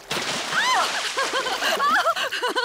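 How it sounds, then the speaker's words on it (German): Cartoon water splashing at a beach as a pig family plays in the sea, loud splashes and spatters mixed with excited character voices talking and squealing over them. "Ich glaube, wir haben genug gespritzt."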